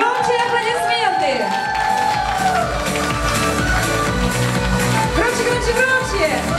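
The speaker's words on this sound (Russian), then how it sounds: "Громче аплодисменты!" Wedding guests applauding and cheering at a civil registration ceremony, dense clapping and whoops layered under loud music and an announcer's voice, continuous and close.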